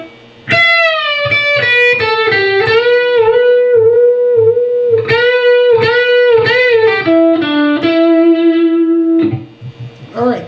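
Electric guitar playing a lick: plucked notes with string bends sliding up and released, loud and close, then a held bent note fading out.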